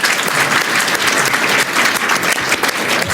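A dense, loud round of audience applause greets a new presenter at a comics festival panel at Thought Bubble 2019. The clapping is steady and continuous throughout, with no talking.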